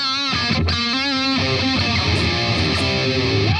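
A distorted electric guitar plays a grace-note-laden opening riff, with loud, sustained, harmonically rich notes sliding and bending continuously and no talking over it.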